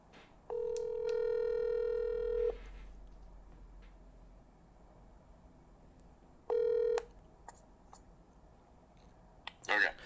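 A telephone being dialed: a steady electronic tone lasting about two seconds, a shorter matching tone burst a few seconds later, then a few faint clicks, heard clearly against a quiet background.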